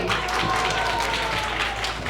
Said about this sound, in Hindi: तो तालियों से इनका स्वागत कीजिए।